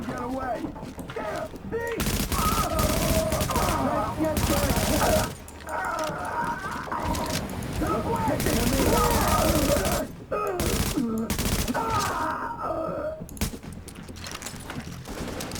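An assault rifle in Tom Clancy's The Division fires in short, rapid bursts, loud and close, the volleys separated by brief pauses, with game sounds and voices running underneath.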